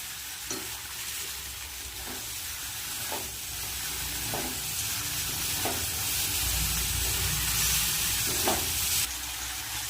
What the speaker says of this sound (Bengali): মাছগুলো দিয়ে ভালো করে মশলার সাথে আলুর সাথে ভালো করে ভেজে নেব একদম কষিয়ে নেব